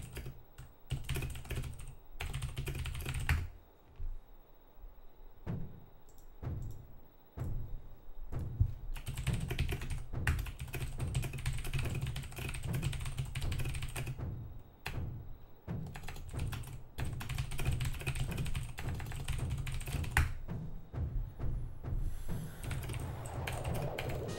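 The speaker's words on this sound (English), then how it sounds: "How fast is my typing?" Rapid typing on a computer keyboard, dense bursts of key clatter with brief pauses, close and continuous, during a Zelda: Ocarina of Time speedrun session.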